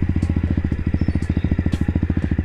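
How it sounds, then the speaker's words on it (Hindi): A motorcycle engine runs close by at a steady idle-like chug with a fast, even pulsing rhythm while the bike is being parked, loud and unaccompanied by talk. "चलो इधर बाइक लगाते हैं।"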